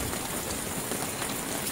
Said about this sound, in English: we are at Cache Creek, and it is raining